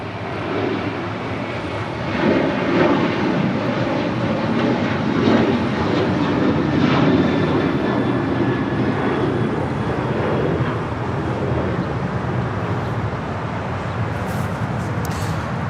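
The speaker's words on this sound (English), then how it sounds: "Next departure here on the south side is El Al, Flight 6, heading back to Tel Aviv in the 787-9 Dreamliner." An El Al Boeing 787-9 Dreamliner departs from the south side at Los Angeles International Airport, a broad, steady jet roar holding loud and even throughout with no voices over it.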